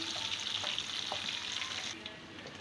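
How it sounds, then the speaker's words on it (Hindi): Chopped onion sizzles steadily in hot ghee as it fries toward golden brown for beef nehari, a dense, even crackle with no voices. "ये प्याज हम घी में शामिल कर देंगे। तो ये देखिए व्यूअर्स, प्याज को हमने गोल्डन ब्राउन कर लेना है।"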